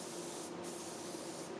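A Harbor Freight HVLP spray gun spraying paint, a steady, loud hiss of atomized spray held continuously and close, with no talk.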